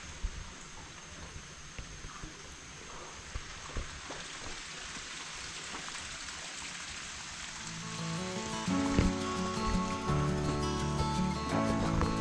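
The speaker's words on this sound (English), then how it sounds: "But this is the waterfall." Wigmore Waterfall in Rarotonga flowing as a steady broadband rush, moderately close and continuous, swelling louder for the last few seconds as the view shifts nearer the falling water.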